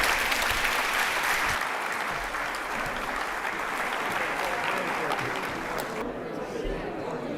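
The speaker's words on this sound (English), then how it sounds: "Big round of applause." An audience at a panel on the 2024 presidential election gives sustained applause, a loud continuous patter of many hands that fades slightly in the final second.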